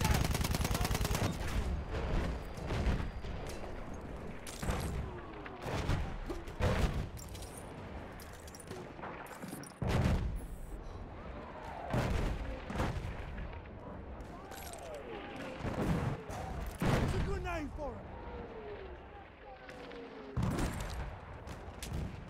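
Machine gun and rifle fire in the video game Battlefield 1, with repeated loud bursts and single shots, some near and some distant, amid booms and battlefield noise. Shouted voices come through at times.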